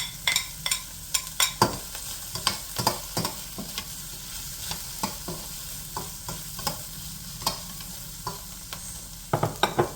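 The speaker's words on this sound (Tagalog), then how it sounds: "mukhang medyo nagbabrown na ang ating onion, we can add the garlic" Chopped onion and garlic frying in a pan for Filipino sinampalukang manok, a steady crackling sizzle punctuated by frequent sharp spatula scrapes and clacks against the pan, near and clear.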